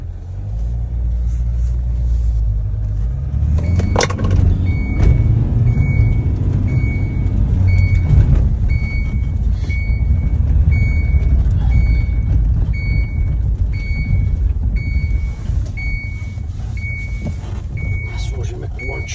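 A Kia 1.6 diesel car engine idles steadily with a low, continuous rumble after a DPF and EGR software update, while a beeping tone repeats throughout and a person speaks in the background.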